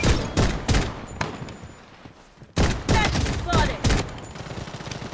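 Gunfire from a Desert Eagle Crimson pistol in the shooter game Blood Strike rings out in sharp, loud bursts of rapid shots, a brief lull, then more volleys, with a player talking over it.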